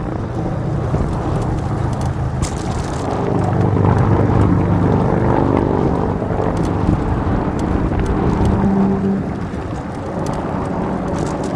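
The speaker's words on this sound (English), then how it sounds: "it's gonna get loud and windy" Steady, loud wind buffeting roars across a microphone while riding an electric bike toward a freeway in Los Angeles, a dense, continuous rumble that swells midway with faint traffic beneath and no talking.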